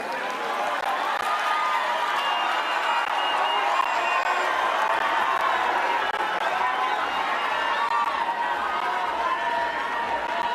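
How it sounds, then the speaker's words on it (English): A large crowd applauds continuously at a devolution conference attended by Raila Odinga, a dense steady roar of clapping with scattered cheers, loud and unbroken throughout. "Another round of applause, please"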